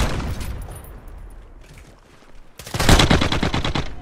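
Gunfire in the video game Modern Warfare, loud rapid automatic bursts, a fading volley at first and then a dense close burst after a short lull.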